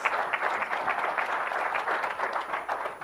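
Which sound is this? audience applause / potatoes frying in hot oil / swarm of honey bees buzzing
audience applause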